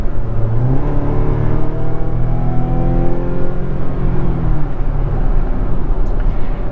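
The 2.5-liter turbo four-cylinder engine of a Mazda CX-90 PHEV labours up a steep Vancouver hill with a loud, steady droning hum from inside the cabin, its pitch rising and then easing off.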